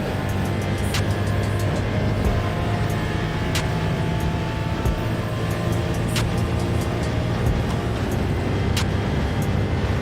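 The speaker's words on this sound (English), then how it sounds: "I was really surprised about how loud the Indy cars were" Turbocharged six-cylinder Indy cars in Gran Turismo 7 produce a continuous loud engine drone with several cars' tones layered together, and sharp clicks and pops recur throughout.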